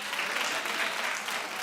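Studio audience clapping on a live comedy sketch show, a thick, even burst of applause filling the whole short stretch with no break.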